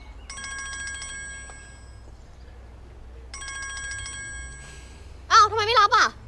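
An unanswered telephone rings in two electronic trilling bursts separated by a pause, fairly near and clear, and then a voice speaks briefly at the end.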